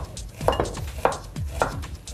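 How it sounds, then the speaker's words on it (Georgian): A knife finely chops half an onion on a wooden board, three steady, evenly spaced thuds up close. "ვჭრით წვრილად ნახევარ თავხავს"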